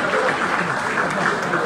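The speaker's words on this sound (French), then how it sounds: "Est-ce qu'on peut applaudir bien fort s'il vous plaît?" A brief burst of dense crowd applause, many hands clapping at once, with cheering voices mixed in.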